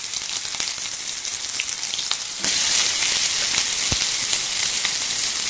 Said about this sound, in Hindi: इसमें है अनियन और जिंजर गार्लिक, ये सबको हम फ्राई कर लेंगे सबसे पहले